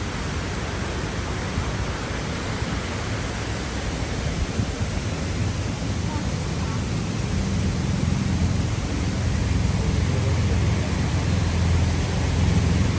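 Strong wind gusting outdoors at the 9/11 Memorial in Manhattan, New York, a steady loud broadband roar with a rumbling low end that builds slightly toward the end, with no talking over it.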